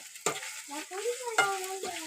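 A meat curry fry is stirred in a pan with a metal spoon: a few sharp scrapes and squeaky, tonal rubs of the spoon over a soft sizzle, close and fairly quiet.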